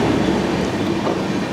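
Panvel Nanded Express passing close by, a loud steady rumble of rolling wheels and rail noise filling the short moment without voices.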